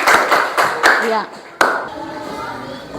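A class of pupils claps together for a classmate, a few bursts of hand clapping up close, followed by a single sharp clap and quieter room sound; a voice is heard briefly.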